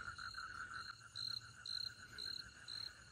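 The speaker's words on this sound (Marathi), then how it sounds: "बेडकं तर वरडायला लागली" Frogs croak at dusk outdoors beside a tree house in rural Maharashtra, a quiet chorus of repeated, rhythmic calls, about five or six pulses in a few seconds, over a faint, steady insect-like trill.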